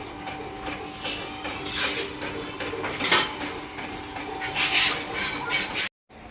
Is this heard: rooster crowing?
no